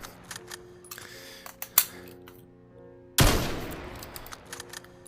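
Sniper rifle shots in a VR shooting game played on a Meta Quest 2 with a gunstock: a few sharp clicks and cracks, then one loud, close blast that rings out and fades, with no speech.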